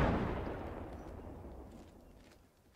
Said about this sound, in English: They had a grenade.